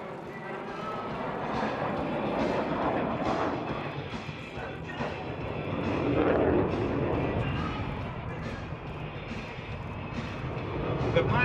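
A Lockheed F-35B Lightning II stealth fighter flies past at an air show display, its jet engine roar swelling and fading steadily over several seconds with crowd noise and a public-address voice underneath.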